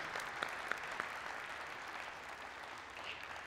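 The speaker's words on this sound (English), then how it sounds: "Give him another round of applause" Audience applause at a hydrogen-energy presentation during an open house: steady clapping from a moderate crowd, somewhat distant in a hall, with a few sharper claps early, sustained evenly throughout.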